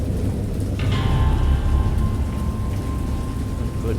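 Loud, close rainstorm with thunder in the horror video game Dagon: heavy continuous rain over deep rumbling, with a faint rising tone partway through.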